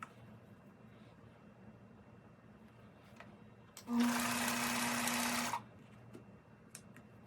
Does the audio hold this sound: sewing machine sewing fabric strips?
yes